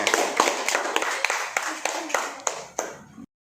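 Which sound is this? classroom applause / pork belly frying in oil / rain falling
classroom applause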